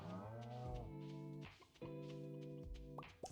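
Cows moo on a farm in the Stardew Valley video game, with several long, drawn-out lowing calls in close succession, loud and clear against quiet game ambience and no talking.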